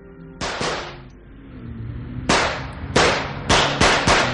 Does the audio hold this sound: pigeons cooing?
no